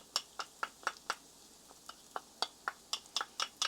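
Finely chopped garlic sizzling and being stirred in a pan with bacon and browned onions for Southern green beans, a quiet run of soft, crisp clicks and scrapes from the stirring over a faint hiss.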